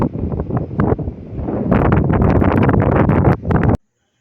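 Strong wind buffets an outdoor microphone as steady, rumbling broadband roar, building louder after the first second and a half and cutting off abruptly near the end.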